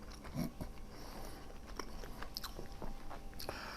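Someone chews tender roasted garlic herb mustard pork loin up close, producing soft, quiet wet chewing and biting sounds over several seconds with no speech.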